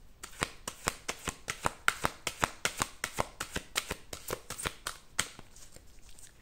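Oracle cards are shuffled by hand, a steady run of about twenty crisp, close riffling snaps in quick regular rhythm, with no talking.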